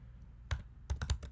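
Computer keyboard typing a terminal command: a single keystroke followed by a quick burst of four clicks, close and fairly quiet, with no voice.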